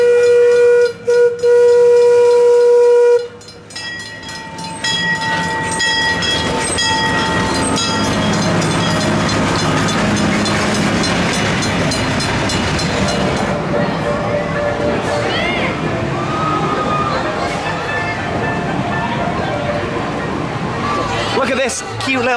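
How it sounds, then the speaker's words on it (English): Amusement park train pulling into a station in a German-themed area, a steam whistle sounding first, then a long rumble of rolling wagons and rail clatter, close and loud, with people talking over it. "here you go, the train is arriving"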